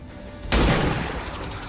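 A single loud gunshot from XCOM 2 cracks out of a quiet background, followed by a decaying rumble of echo.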